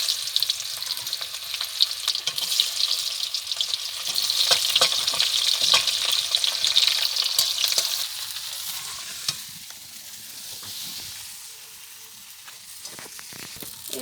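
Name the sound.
chopped onions frying in hot oil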